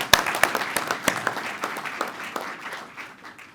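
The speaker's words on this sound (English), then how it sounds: "hand clap of applause." Crowd applause for award recipients at a police community awards ceremony, a dense patter of many hands with a few sharp claps standing out early, then thinning and fading toward the end.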